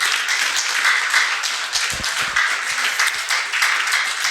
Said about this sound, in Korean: 그 뜻이 옳으면 박수 부탁합니다